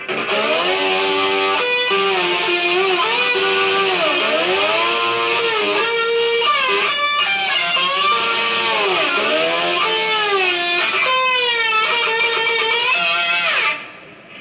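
Guitar section of a solo, a loud, sustained lead line with bends, slides and vibrato over a continuous dense tone, playing alone with no talk until it fades at the end.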